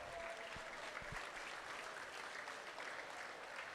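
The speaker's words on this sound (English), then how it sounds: "Let's give them one more round of applause." Applause from a crowd at a state fair livestock sale honoring scholarship recipients, a steady, fairly faint wash of clapping that holds evenly throughout with no voices over it.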